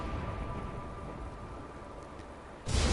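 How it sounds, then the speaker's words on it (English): Steady rain patter in the video game Unravel, a continuous soft hiss of falling water with no voices, swelling into a louder wash near the end. "it is raining out there"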